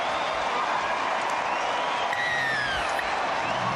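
Rugby league stadium crowd at a Warriors versus Panthers match cheering a try, a dense sustained roar with applause and whistles, loud and continuous throughout.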